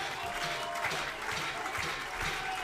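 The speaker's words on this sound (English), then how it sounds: "Crowd to their feet now" A baseball crowd at an IBL playoff game between the Welland Jackfish and Toronto Maple Leafs rises with sustained applause and cheering, a dense distant roar of clapping with a voice faintly audible beneath.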